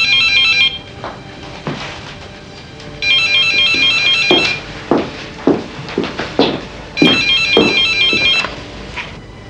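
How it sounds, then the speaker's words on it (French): A telephone rings indoors in repeated electronic trilling bursts, loud and near, with footsteps and soft taps moving about between the rings. "Tu ne veux pas décrocher?"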